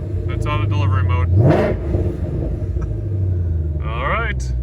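A 2020 Shelby GT500 engine idles low, then revs up sharply in a single rising roar and drops back to idle, with people talking around it.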